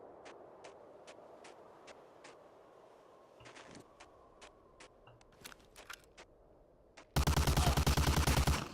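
An MG42 machine gun in Medal of Honor: Allied Assault crackles in a run of evenly spaced distant shots, then a loud, dense close burst of rapid fire cuts in and fills the last second and a half.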